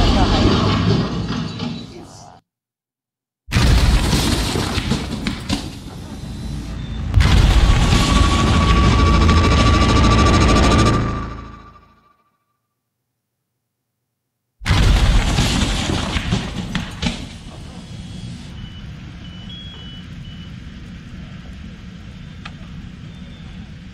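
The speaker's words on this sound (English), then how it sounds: "That was an e-scooter going into thermal runaway" A lithium-ion e-scooter battery bursts in thermal runaway, giving loud, harsh bursts of explosive hissing and roaring noise separated by abrupt silent gaps, ending with a lower sustained rushing sound.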